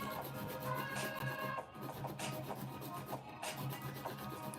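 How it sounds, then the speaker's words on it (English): An 80/80 grit nail file shapes polygel nails on a practice hand, making steady, close rasping strokes that scratch back and forth without pause. "These are literally the best files if you're going to be shaping or even simply prepping."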